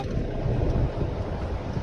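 Steady gusting wind buffeting the microphone, a low, constant rumbling roar with no pauses.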